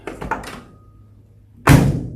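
A few quick mechanical clicks and clunks from the door lock of a 1972 Chevrolet Nova unlocking, a pause with faint hum, then a louder solid thunk.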